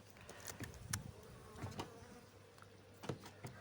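Honeybees buzzing close by at a hive in mild weather around 15°C, with irregular sharp bursts as insects pass near, over a quiet background hum.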